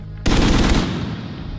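Loud burst of automatic gunfire from the urban shooter game Tom Clancy's The Division 2, starting abruptly with rapid close shots and then trailing into a ringing, fading echo.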